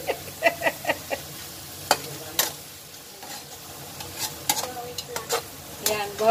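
Garlic beef sizzles and fries in a pan while being stirred, with a steady hiss and repeated scraping, clinking spoon strokes in an irregular rhythm, up close and without talk.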